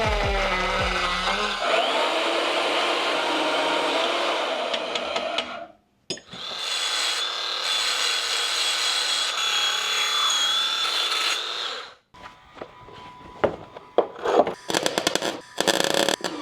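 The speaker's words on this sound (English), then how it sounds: "I got to do a lot of grinding to get this metal pipe in there." A metal pipe being ground during work on a BMW E30 M3 project fitted with an S54 engine, heard as two long, loud, whining power-tool bursts, then a pause and a series of shorter, scraping grinds with clatter, close up.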